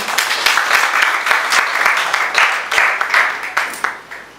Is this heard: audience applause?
yes